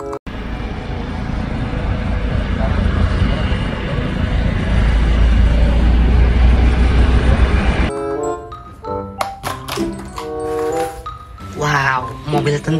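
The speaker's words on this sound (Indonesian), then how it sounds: "Helikopter." Helicopter sound effect for a toy helicopter, a steady loud rumbling drone that stops abruptly and gives way to a brief stretch of tonal, musical sounds.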